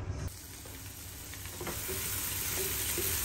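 Onion frying in a pan for a pork estofado, a close, steady sizzle that swells slightly louder and continues alone without talk.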